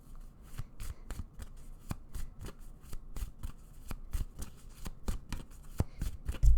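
Tarot-style reading cards are shuffled close up, with rapid papery riffles and flicks in an uneven rhythm that build toward a sharper tap at the end, with no talking.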